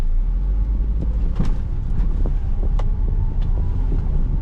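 A 2012 Perodua Myvi 1.5 Extreme with automatic transmission on a test drive, heard from inside as a steady low engine and road rumble with wind buffeting the microphone and a few faint clicks and knocks.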